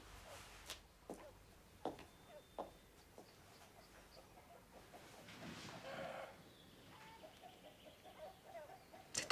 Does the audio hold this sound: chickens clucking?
yes